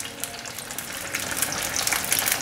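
Vegetarian fish frying in plenty of hot oil in a wok, a loud, steady bubbling sizzle with bright crackling that grows slightly busier toward the end.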